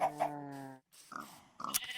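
A sheep in a farming game bleats with a long, wavering call, followed by shorter grunting bleats, fairly faint and without talk.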